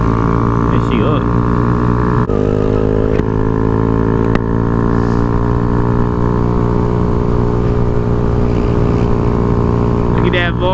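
A Jeep engine drives a rough off-road trail, a loud steady drone with shifting pitch as the throttle changes, close and continuous, with occasional voices beneath it.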